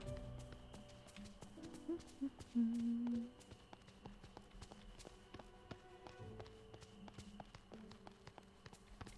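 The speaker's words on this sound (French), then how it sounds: "Les petits bruits de pas." Soft footsteps in a video game patter as faint, steady taps throughout, set low under a quiet game soundtrack with a brief tonal phrase near the start.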